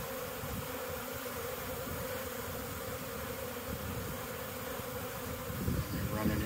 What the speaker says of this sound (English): There's a bunch of bees sitting in front of the entrance with their nascent off gland, waving in the air like they just don't care.